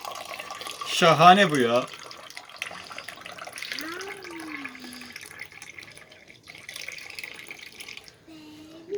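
Watermelon juice runs from a tap fitted into a watermelon into a glass, a soft, continuous trickle heard close by, with a person speaking briefly near the start.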